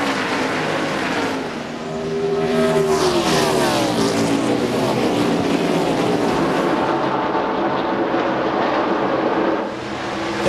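NASCAR Busch Series race cars roaring around the track at the 2001 MBNA.com 200, a loud continuous engine wail with rising and falling pitch as cars sweep past.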